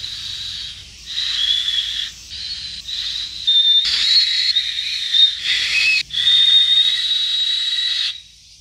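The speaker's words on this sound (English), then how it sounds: "It's literally just a whistle." A plain whistle, not a musical instrument, blown during tour downtime in Japan: a series of shrill, close, loud blasts of varying length with brief gaps, the longest held near the end.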